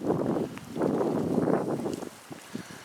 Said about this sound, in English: It's windy on this side here